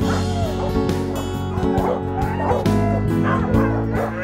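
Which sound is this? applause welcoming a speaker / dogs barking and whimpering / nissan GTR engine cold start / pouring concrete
dogs barking and whimpering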